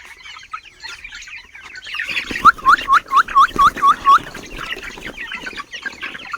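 A chicken clucks close by in a quick run of about eight sharp, evenly spaced calls. Softer bird chatter and farmyard background come before and after.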